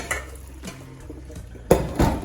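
Cooked broccoli rabe being strained in a pot in a home kitchen: light metallic knocks and rattles, then a louder close clatter with a splash of liquid near the end, without speech.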